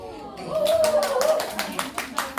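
A group of participants at a civic-education team presentation claps together in a series of loose, tiring bursts at close range, with a voice speaking over part of it.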